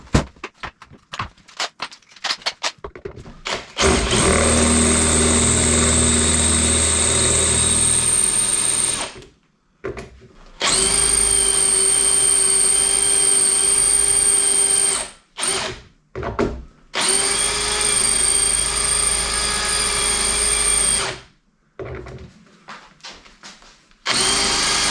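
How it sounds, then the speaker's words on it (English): A power drill bores off a seized bolt head on a Super City Mini, running in long sustained whining bursts separated by short pauses and brief stops, loud and close with no talk. "so we'll have to drill the head off that."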